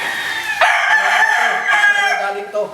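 Rooster crowing nearby, one long drawn-out loud crow with rising and falling cock-a-doodle-doo tones, with faint clucking around it and no talk over it.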